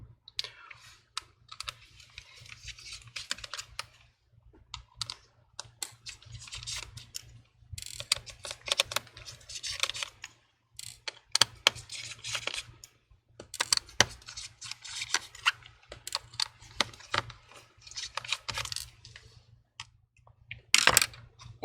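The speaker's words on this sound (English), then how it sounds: "get a Phillips screwdriver to remove all the screws" A Phillips screwdriver backs out the six bottom screws of an HP Envy 14 laptop, producing close, intermittent scratchy clicks and metallic ticks in bursts separated by short pauses, with no one speaking.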